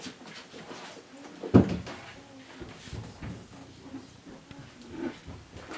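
A door in a home closes with a single soft thud, followed by faint room noise and a little quiet voice activity.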